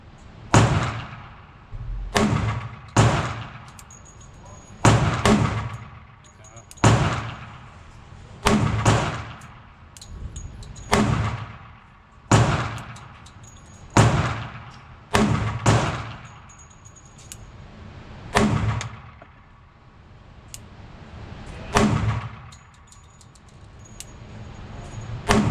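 FN 510 MRD pistol in 10mm fired outdoors at about ten yards, around fourteen sharp shots spaced roughly one to two seconds apart, each with a short echoing tail, no talk.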